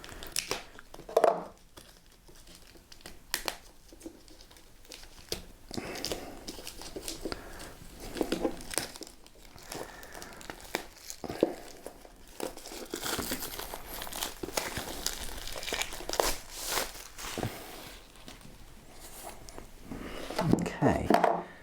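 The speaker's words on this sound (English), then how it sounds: "we'll just unwrap this one too" Plastic wrapping being pulled off a Warhammer book: quiet crinkling and tearing in irregular bursts, close by and faint, continuing for about twenty seconds.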